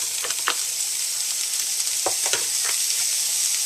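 About two cups of chopped onion frying in a pan, a steady loud sizzle running the whole time, broken by a few soft stirring taps.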